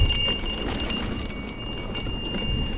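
A bell on a Cannondale bicycle rings steadily along a country trail ride, its bright sustained tones riding over constant rolling wind and tyre noise.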